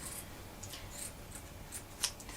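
Scissors trim fabric for foundation paper piecing of a pineapple log cabin block, giving a few faint, quick snips close by with one sharper cut near the end.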